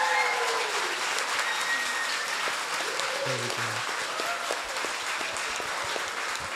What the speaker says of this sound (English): I think we can give our guests a big,